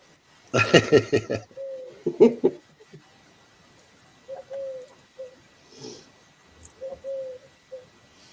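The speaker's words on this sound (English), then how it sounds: "Sorry if you hear birds outside." Soft cooing calls from a bird repeat several times at a moderate distance, following a brief burst of talking at the start.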